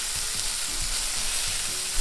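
Burger patties sizzle steadily on a hot griddle for a home-made In-N-Out style Double-Double, a loud continuous crackling hiss with faint scraping underneath and no voices.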